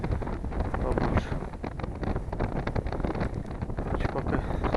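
Strong gusting wind buffets the microphone out on open ice during a winter zander fishing trip in snow, a continuous loud roaring rumble with no talking.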